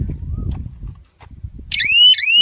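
An electric fence alarm buzzer on a line fault sounds loudly near the end as rising, warbling electronic sweeps, repeated twice after a stretch of low rumbling handling noise.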